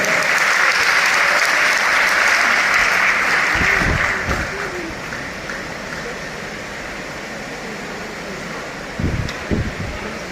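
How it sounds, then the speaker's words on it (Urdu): A stage audience at a Urdu poetry gathering breaks into loud, dense applause that sustains for several seconds, then thins and fades beneath the hum of the hall, with a few scattered claps near the end. "آپ کی بھرپور تالیوں کی گونج میں"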